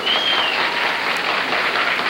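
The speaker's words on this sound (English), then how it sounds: "I don't know why the yellow section is applauding for that" A studio audience at a television game show applauds in a dense, steady wash of clapping that fills the whole moment without breaks or voices.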